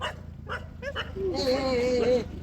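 A dog barks and yips close by in a few short bursts, then gives a longer whining cry, with a person talking over it.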